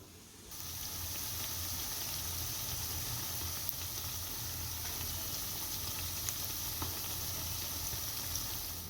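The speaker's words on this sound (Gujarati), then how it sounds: "આપણે ઉતાવળ નથી કરવાની, ધીમે તાપે તળવા દેવાની" Gentle, continuous sizzle of puffed-rice patties frying in oil over a low flame, steady and close, with faint crackles scattered throughout and no talking.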